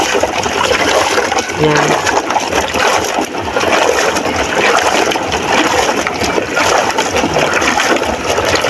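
Water splashes and pours continuously as a freshly caught haul of lobsters is rinsed in a basin outdoors, with people talking over the sloshing.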